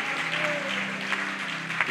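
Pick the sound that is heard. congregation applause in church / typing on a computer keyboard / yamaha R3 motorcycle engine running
congregation applause in church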